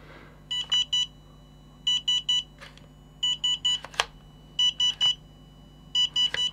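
Series of short electronic beep bursts, three quick beeps in each group repeating at a steady rhythm, from a BetaFPV LiteRadio 2 SE radio controller during stick calibration, clear and close, with a few soft handling clicks between groups.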